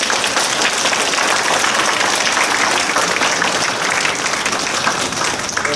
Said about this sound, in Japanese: 最後にもう一度大きな拍手でお願いいたします